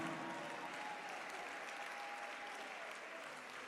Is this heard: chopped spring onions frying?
no